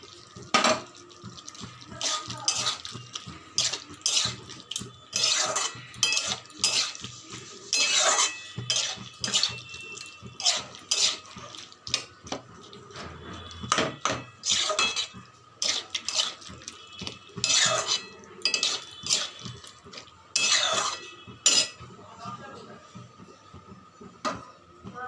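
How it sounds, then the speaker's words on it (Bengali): Water runs and splashes into a bowl being rinsed in a kitchen while aloo posto is cooked, with repeated bursts of pouring and clinking dish sounds at close range. "বাটিটা ধুয়েও একটু জল দিয়ে দিচ্ছি।"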